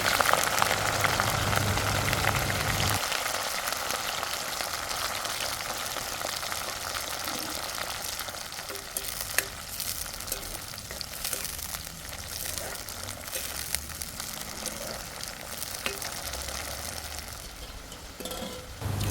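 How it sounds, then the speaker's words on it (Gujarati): Cluster beans dropped into hot oil bring a steady, moderately loud sizzling and bubbling that carries on throughout, with faint stirring noises. "હવે આપણે તેમાં બધો ગુવાર ઉમેરીને તળી લઈશું"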